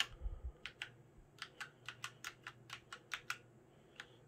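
Keystrokes on a Punkston TK-104 keyboard, about fifteen crisp, separate clicks in an uneven rolling rhythm, close and fairly quiet with no voices.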